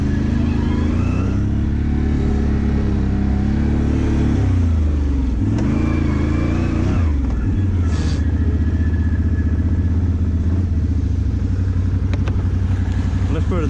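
A Can-Am XMR 570 ATV engine revs loud and close as it churns through a ditch, pitch rising and dropping with throttle bursts before settling into a rough, lower growl.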